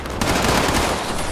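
Sustained rapid gunfire in a Fallout 76 boss fight, with dense overlapping shots filling the moment at steady volume and no talking.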